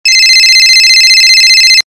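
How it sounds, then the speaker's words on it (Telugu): A mobile phone rings with an incoming call, a loud, sustained electronic tone lasting under two seconds before stopping abruptly, with no voices. "నేను ఒకసారి ఫోన్ చేస్తా, లిఫ్ట్ చేయి"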